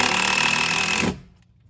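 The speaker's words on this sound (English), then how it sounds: "Just gonna run a screw right through there." A power driver runs a screw into a tiny budget camper build, a loud, steady close-up whine for about a second that stops abruptly, followed by near silence.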